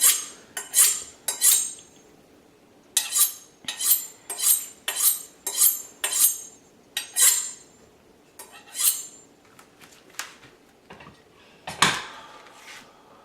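A knife slices green onions at an angle on a wooden cutting board, crisp rhythmic chops in quick clusters with short pauses between them, close and clear, ending on one heavier knock.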